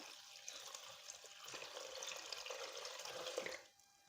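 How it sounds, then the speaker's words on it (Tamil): Water is poured into a banana juice mixture sweetened with sugar, about two litres added, giving a soft steady splashing stream that stops near the end, faint and with no talk. "சர்க்கரை சேர்த்து கொடுத்துட்டு 2 லிட்டர் அளவுக்கு தண்ணி சேர்த்துக்கோங்க."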